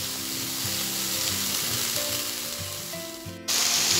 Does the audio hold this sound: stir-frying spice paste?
yes